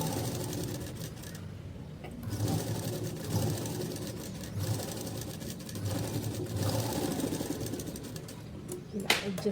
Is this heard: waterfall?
no